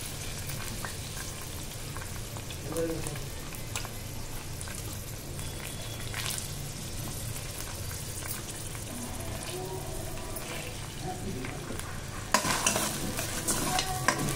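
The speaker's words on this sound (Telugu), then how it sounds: "ఈ ఆనియన్ పచ్చిమిర్చి ఫ్రై అయ్యేంత వరకు వేయించుకుందాం" Onion and green chillies frying in oil in a kadai, with steady sizzling and repeated stirring scrapes throughout, growing louder and sharper near the end.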